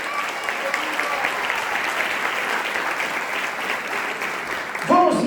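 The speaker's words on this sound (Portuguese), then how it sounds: "Quem pode aplaudir o nome do Senhor?" A church congregation applauds steadily and fairly loudly at a ministerial training service, the clapping holding even throughout before a brief louder voice cuts in at the end.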